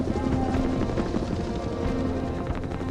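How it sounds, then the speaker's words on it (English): A military helicopter in jungle warfare, a 1950s-era British machine, drones with a loud, steady rotor thrum and engine hum that fills the space continuously, with no voices over it. "The British pioneer the use of helicopters in jungle warfare."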